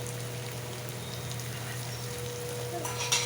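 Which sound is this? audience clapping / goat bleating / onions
onions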